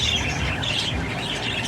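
Cockatiel chicks call in a continuous overlapping chorus of thin high chirps and squawks, close and fairly soft, with no talk over them.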